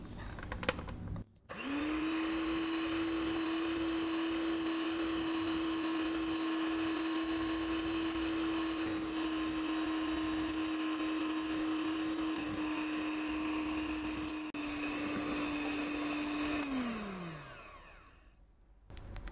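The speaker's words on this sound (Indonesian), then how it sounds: "Kemudian mixer sampai soft peak." An electric mixer whips egg whites with sugar toward soft peaks, giving a steady, even motor whine that runs about fifteen seconds before winding down at the end.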